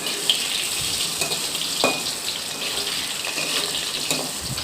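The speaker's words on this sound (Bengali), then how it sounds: "এরপরে আলুগুলো একটু ভেজে নেব লাল লাল করে।" Potatoes fry in hot oil in a wok with a steady, close sizzling hiss, broken by a few brief crackles and spatters.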